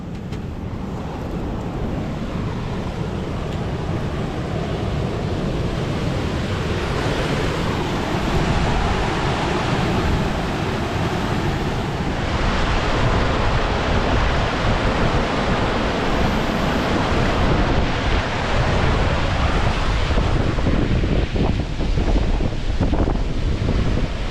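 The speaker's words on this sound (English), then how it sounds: "I think you can still hear me even though it's a light wind here." A light wind blows steadily at the seaside, recorded on a GoPro Hero10 with wind reduction on, leaving a constant broad rushing hiss with faint surf-like swells and no clear voices.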